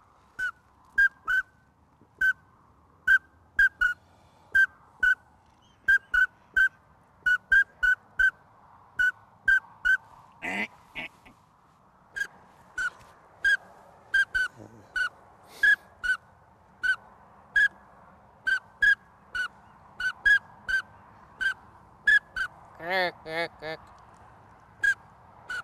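A hunter blows a whistle caller to imitate hen duck calls on the Baie de Somme shore. Short, sharp, evenly spaced call notes repeat steadily throughout, with a couple of rougher, wavering bursts mixed in.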